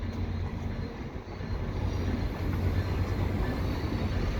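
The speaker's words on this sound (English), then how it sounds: "There's a Renaissance F40PH-2 and matching coaches" VIA Rail Renaissance F40PH-2 diesel locomotive with matching aging coaches passing on a viaduct, a steady low rumble and rolling roar heard from a moderate distance, with no one talking.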